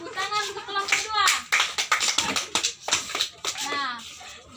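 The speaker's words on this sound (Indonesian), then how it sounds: "tepuk tangan untuk kelompok 2" Classmates clap for group 2 in a school biology lesson, a burst of quick, uneven hand claps at close range, with children's voices chattering over and between the claps.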